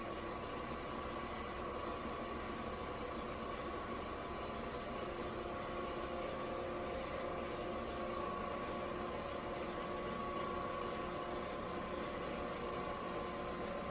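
A milling machine runs steadily on a variable frequency drive set to 60 hertz, giving a continuous close mechanical hum with a faint steady tone and no pauses.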